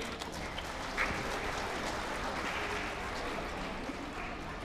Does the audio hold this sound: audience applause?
yes